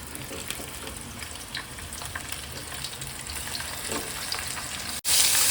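Puti fish sputter and fry in hot oil in a wok, a close continuous crackling sizzle with light stirring noises, ending in a sudden cut.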